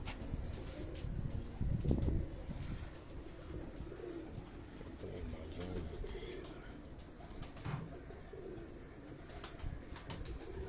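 Breeder pigeons, high-flying birds kept at a Karachi loft, coo softly and repeatedly over a steady background murmur, with a few brief wing flutters and chirps mixed in.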